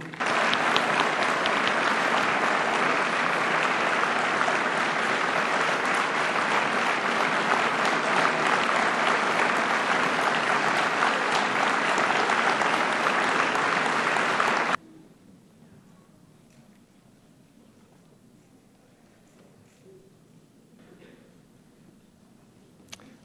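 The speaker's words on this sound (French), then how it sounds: "applaudissons encore une fois le nouveau diplômé de doctorat en administration publique" Sustained audience applause at a 2013 graduation ceremony of ENAP honouring a new public administration doctorate, loud and dense for about fifteen seconds, then cutting off abruptly to a quiet room.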